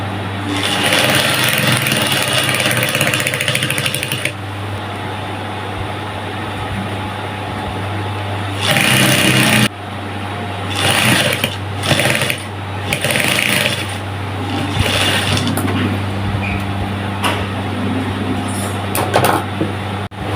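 A sewing machine top-stitches elastic onto the side band of a skirt, running in steady motor bursts with short pauses between stretches of stitching, close and fairly loud throughout.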